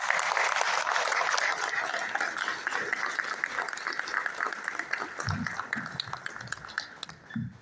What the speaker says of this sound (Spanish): Oasis de Bendición, el pastor Miguel López, a que lo recibimos con un fuerte aplauso.